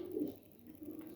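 Pigeons cooing nearby, a soft low throaty coo rising and falling in a murmuring rhythm, fairly faint and with no talk over it.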